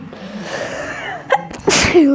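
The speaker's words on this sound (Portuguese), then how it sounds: "Ai, que espirro" A single sharp sneeze bursts out near the end, close and loud, preceded by a soft breathy build-up and a short squeaky vocal sound.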